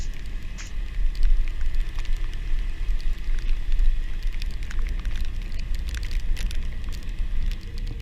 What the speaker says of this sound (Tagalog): Lumalakas yung ulan na.